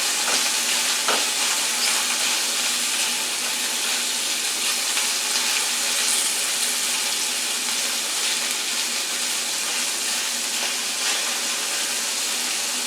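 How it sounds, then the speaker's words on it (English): Vegetables and meat stir-fried in a pan for a breakfast omelette, giving a steady, close sizzle with scraping stirs and no talking. "we want to just stir this around as if you're stir frying the vegetables and the meat"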